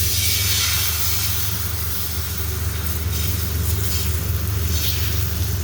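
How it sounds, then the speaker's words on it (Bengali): Rice-flour batter sweetened with date-palm jaggery spread over a lightly oiled hot tawa, giving a steady loud broadband sizzle and hiss that holds evenly throughout. "এখন আমি ব্যাটার দিব তাওয়াতে।"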